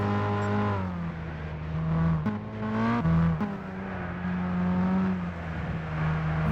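Mercedes A160 tuned to 270 hp in Gran Turismo 6, engine revving hard through a front-wheel burnout, a loud sustained buzzing drone with pitch shifting up and down and brief dips between revs.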